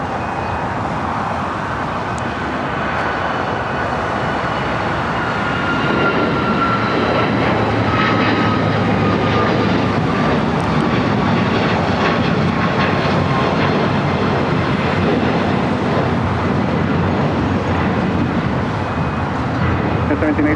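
Airplane taking off from runway 25 left at LAX airport, a steady broad jet roar building slightly and holding for a long stretch, with faint radio voices underneath.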